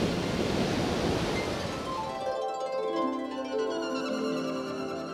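Ocean surf rolling onto the northern shore of a Hawaiian island, a steady broadband wash of breaking waves that stays loud and continuous throughout, with no voices.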